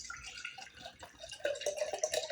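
Water poured into a frosty mug, close and trickling with bright splashing, rising into a fuller gurgling pour as the mug fills.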